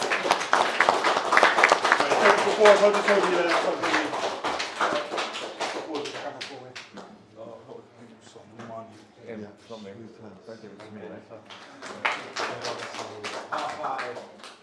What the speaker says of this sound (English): Let's have a round of applause, and let's watch him face off